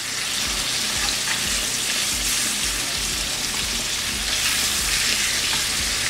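Short ribs browning in a hot pan after being flipped, a loud, continuous sizzle and spatter with occasional low bumps of meat shifting, no voices.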